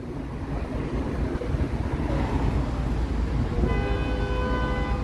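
A vehicle horn honks on a downtown city street, a sustained tonal blare rising over the constant rumble of traffic and wind near the end.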